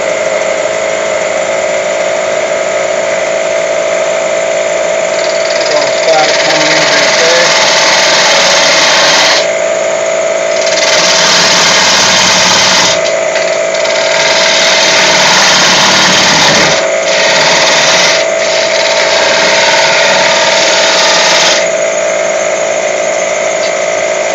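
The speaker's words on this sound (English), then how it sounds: "I'm going to be using a 1/4 inch bowl gouge with a fingernail grind." A wood lathe runs loud and steady as a 1/4 inch bowl gouge with a fingernail grind cuts the spinning wood, the cutting noise swelling and easing in passes over a constant motor hum.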